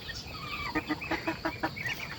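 Chickens cluck on a farm where ducks and chickens are raised, a close run of about eight short, rhythmic clucks over soft background noise.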